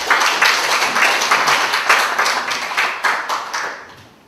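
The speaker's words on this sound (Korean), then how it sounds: "우리 제1 발제자 김동명 박사님 박수로 모시겠습니다" Applause from a forum audience at a National Assembly policy presentation greets the first presenter, a dense run of clapping that rises and falls in bursts for a few seconds before tapering off.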